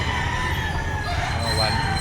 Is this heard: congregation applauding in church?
no